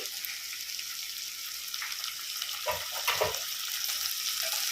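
Tomato pieces cooking in a covered pan for vegetable pulao, giving a steady close sizzle with a couple of brief stirring scrapes midway and no talk.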